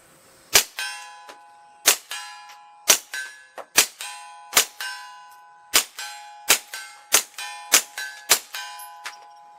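Suppressed Taurus .22 firing subsonic rounds at a steel target fifty yards away: about fourteen sharp pops each followed by a ringing metallic clang, at a steady, fairly quick pace with quiet gaps between.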